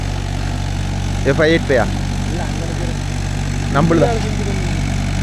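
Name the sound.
Mahindra 415 DI tractor engine running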